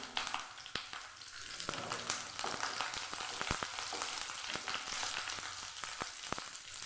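Green chillies hit hot oil already holding fried black cumin, giving a steady close sizzle with occasional sharp pops and crackles throughout.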